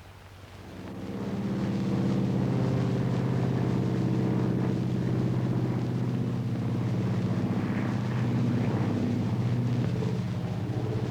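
A steady, loud propeller-engine drone rises within the first second, then holds a constant, rumbling hum with no voices.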